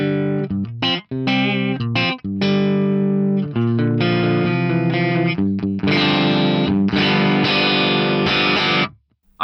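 A Harley Benton Dullahan electric guitar tuned to drop C, played through the ODS clean amp of an Axe FX, gives a series of clean chords and picked notes with short gaps, rising in intensity and ending on a ringing chord that fades.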